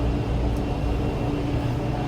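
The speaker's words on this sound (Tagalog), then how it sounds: "yan ay helicopter." A helicopter flies overhead outdoors, giving a steady, loud low-frequency rumble and drone that stays constant throughout with no talk over it.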